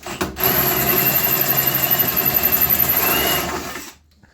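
A drill boring a hole into a floor during a consumer unit installation, a close, loud, steady whine that starts abruptly, holds for about three seconds and then winds down.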